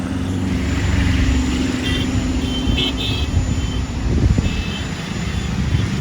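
A loud, steady helicopter engine roar with a rumbling low drone persists throughout at Amausi Airport, running nearby, with no speech.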